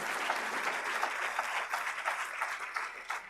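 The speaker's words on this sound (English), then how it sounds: "let's give a round of applause for all the winners here" Audience applause for award winners at a women's entrepreneur excellence ceremony, dense and continuous crowd clapping at moderate distance, alone without speech.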